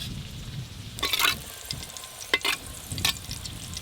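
Salted mixed vegetables for fried rice are lightly fried in a home kitchen pan. A soft, constant sizzle is broken by several sharp scraping bursts as they are stirred.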